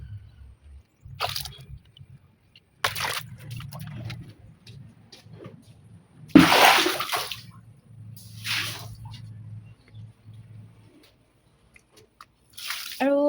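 Water splashes in short, uneven bursts as a face is rinsed by hand, with quiet drips and pauses between the scoops, close and fairly soft.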